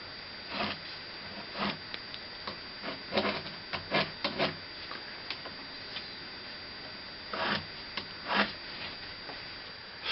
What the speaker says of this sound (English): coarse sawn cleats, which I have to sand